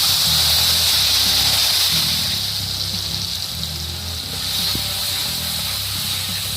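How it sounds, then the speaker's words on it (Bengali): A mix of ginger paste, coriander, turmeric and chilli powder hits a hot pan for a Bengali five-spice rohu fish curry, giving a loud steady hiss and gushing sizzle that eases slightly midway, alone with no talk. "এবার আমি এর মধ্যে ঢেলে নেব আগে থেকে তৈরি করা সেই আদা বাটা, ধনে গুঁড়ো, হলুদ গুঁড়ো আর লঙ্কা গুঁড়োর মিক্সটা"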